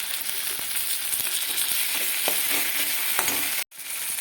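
Chopped tomatoes frying with garlic and ginger paste in a Bengali home kitchen: a steady, dense sizzle with a few soft stirring scrapes, broken by a brief cutout near the end, no voices.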